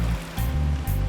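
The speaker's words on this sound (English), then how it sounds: "The waves can be treacherous here." Ocean waves break on a shore in a steady low surging wash, with two brief hissing swells rising over the rumble.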